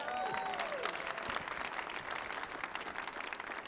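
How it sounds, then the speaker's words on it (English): Audience applause at a jazz performance on the Millennium Stage, steady dense clapping that holds at an even level throughout, with a brief whistle near the start. "You can applaud again. Give me some more applause."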